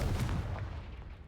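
A Confringo blasting spell going off in a video game, a single booming burst with heavy low rumble that decays over about a second, no voices.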